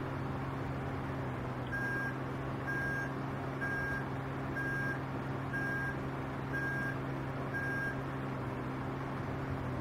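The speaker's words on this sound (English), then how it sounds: "It's got the old backup beeping. That's for safety." A steady reversing alarm beeps in a regular rhythm, repeating about every second over a constant low engine drone, from a truck in the video game Pure Farming 2018.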